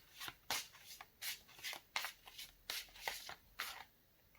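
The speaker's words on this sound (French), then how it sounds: "je vais tirer d'autres cartes pour vous" Tarot cards shuffled by hand for a reading, a dozen soft riffling swishes in an uneven rhythm, close and quiet with no voices.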